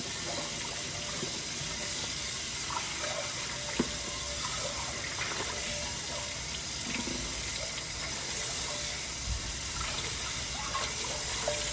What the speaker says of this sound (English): I'm washing dishes. Hopefully the water doesn't splash.